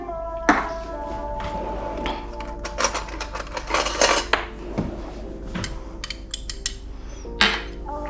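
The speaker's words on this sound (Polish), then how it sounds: "I teraz wymieszamy jedną łyżeczkę papryki." Spices such as paprika, salt and pepper are stirred in a bowl with a spoon, giving repeated metallic clinks, taps and scrapes of varying loudness over a steady low hum.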